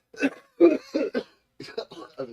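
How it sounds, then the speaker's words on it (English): A man coughs several times in quick succession, close and clear, in short harsh bursts with brief pauses between them in a quiet room. "You asked, and now he's going to cough."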